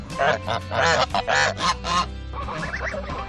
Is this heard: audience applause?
no